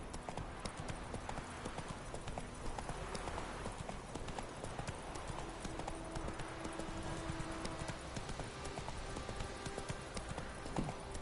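Roach the horse trots in The Witcher 3, hooves clip-clopping in a steady rhythm through a faint, dense ambient bed, fairly distant and even for the whole stretch.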